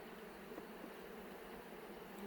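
Honey bees packed into a full hive box give off a steady, low, continuous hum that is soft and unbroken throughout, with no voices.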